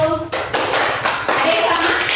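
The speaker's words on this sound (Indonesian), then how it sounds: "Oke, beri tepuk tangan dulu" A classroom group clapping their hands together, with bursts of dense, overlapping claps starting and stopping in quick waves, close and fairly loud, while voices are heard in between.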